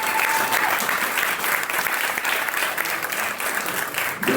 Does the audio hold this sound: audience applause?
yes